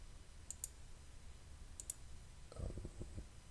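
Computer mouse clicks on a browser, a few quick faint double clicks spaced apart, then a soft cluster of small taps and clacks near the end, over low room hiss.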